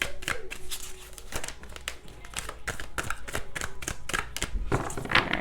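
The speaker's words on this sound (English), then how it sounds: "shuffle, split, and pull." Tarot cards shuffled by hand during a reading: a close, busy run of crisp slaps and papery riffles that repeat unevenly for several seconds.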